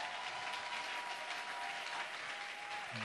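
A church congregation applauding God, sustained dense clapping from a crowd at moderate distance, even and continuous with no voices on top.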